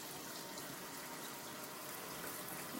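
Tap water runs steadily into a sink as stirring spoons and a squeegee are rinsed off after chalk painting, a continuous close, moderately quiet hiss of flowing water with no talk.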